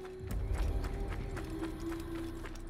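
A horse in the Assassin's Creed video game gallops with quick, rhythmic clip-clop hoofbeats over a steady game ambience, fairly close and moderately loud throughout.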